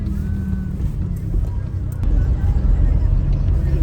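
A steady roar of passing vehicle engines, growing louder partway through, with low rumbling and indistinct background chatter.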